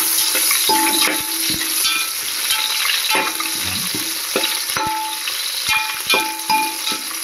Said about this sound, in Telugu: ఇప్పుడు అందులో ఒక 2-3 పచ్చిమిర్చి వేసుకోవాలి. అవి కొద్దిగా వేగనివ్వాలి.